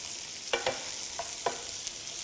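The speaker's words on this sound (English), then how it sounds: "Give that a good stir around" Ratatouille vegetables and pumpkin cook over high heat in a pan, a faint soft sizzle with a few quick spoon scrapes and taps as they are stirred.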